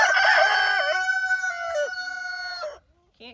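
One rooster crows close by in a chicken coop, a single long cock-a-doodle-doo that rises, holds and trails off, then a brief cluck follows.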